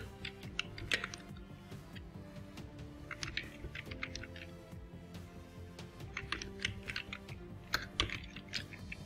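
Typing on a computer keyboard to enter text into a PowerPoint text box gives a steady stream of close, quiet key clicks in irregular bursts over low background noise.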